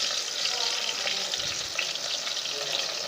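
Whole cumin seeds sizzle in hot oil for Indian aloo pyaz sabzi, a steady, even hiss with a soft clink of stirring near the middle.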